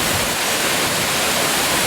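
A jungle waterfall gives a continuous dense rushing roar of falling water, loud and close, steady throughout with no voices.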